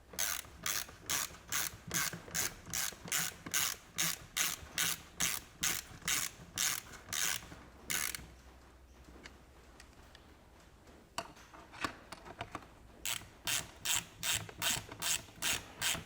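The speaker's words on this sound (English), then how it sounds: "Now I had a little ratchet here when I undid it." A small hand ratchet works on a plastic-housed boat motor part, giving rapid close clicking strokes in regular bursts, a pause of near silence, then the clicking resumes.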